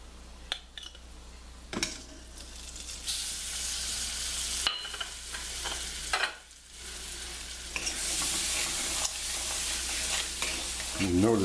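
Butter and cornmeal sizzle in a hot pan, with stirring and scraping bursts of crackle that swell and fade, a brief lull midway and a faint voice near the end.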